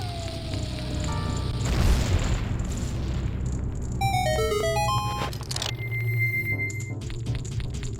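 A bomb detonates in The Legend of Zelda: Majora's Mask as a broad low boom around two seconds in, under a thick game soundscape followed by bright descending chime-like jingle notes.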